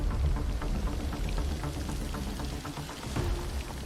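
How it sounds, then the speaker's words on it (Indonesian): Steady rain falls outside in a dense, continuous hiss, with scattered drips and patters close by. "di luar juga hujan belum reda dari kemarin"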